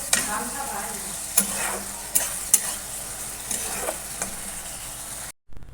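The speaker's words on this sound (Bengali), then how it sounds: "চিংড়ি মাছ দিয়ে দিয়েছি একটু ফুটে এলে গরম মশলার গুঁড়ো দিয়ে নামিয়ে দেবো" Prawns cooking in a pan with chili and turmeric powder for a Bangladeshi-style prawn bhuna: a continuous close sizzle with a few scraping stirs of a spoon, then a brief cut to silence near the end.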